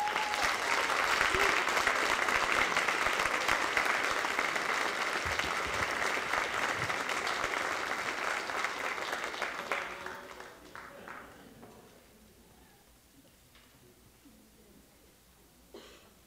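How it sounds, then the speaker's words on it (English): Sustained applause from an awards-ceremony audience for standing mentors, full and steady for about ten seconds before fading to scattered claps and a quiet room. "let's give them a round of applause."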